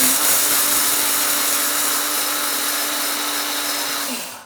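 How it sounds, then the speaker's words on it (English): A coffee bean mill grinds flaxseed with a steady, loud motor whir that holds for about four seconds, then spins down and stops at the end. "the only way that you can really grind flaxseed is in a coffee bean mill"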